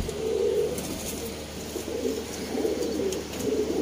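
Parwazi baby pigeons coo in a low, continuous murmur, the soft calls swelling in overlapping waves close by with no talking.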